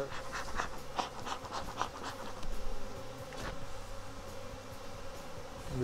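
Honey bees swarm around an opened, aggressive hive during a split, a dense continuous buzzing drone close by that rises and falls slightly throughout, with no talk.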